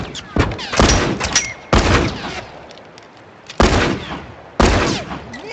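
Loud gunfire from The Last of Us multiplayer: four sharp, close shots spaced about a second apart, each trailing into a noisy decay, with no talk over them.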